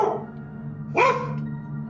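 A dog barks once, mid-range and fairly close, against a steady low hum, with faint whimpering or yipping at the start; no one speaks.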